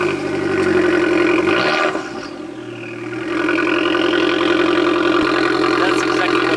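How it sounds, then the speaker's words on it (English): An Abarth 695 Esseesse's small turbocharged engine idles after a cold start, a steady close burble with a brief dip in level midway before settling back to a fast, even idle. "I love how it sounds on the cold start."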